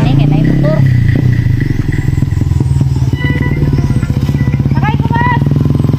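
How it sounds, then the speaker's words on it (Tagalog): A motorcycle engine rumbles steadily nearby with revving pulses throughout, under other voices and clatter, as it pulls up on a rural road in the Philippines. "Uy, kani kay nay motor."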